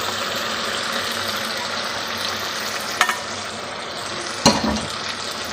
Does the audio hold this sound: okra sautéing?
yes